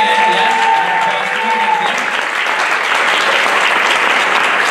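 Audience applause at a spring choir concert, a sustained dense clapping that fills the room, steady and loud from start to finish, with a brief sung or held tone at the opening.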